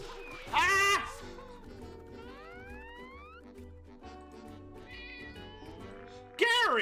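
Gary the snail from the game SpongeBob SquarePants: Battle for Bikini Bottom – Rehydrated meows like a cat, with a loud, short meow near the start and another at the very end over game music and effects.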